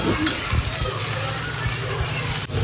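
Vegetables frying in a pan for a homemade momos filling: a steady, close sizzle and crackle that continues evenly while someone talks over it.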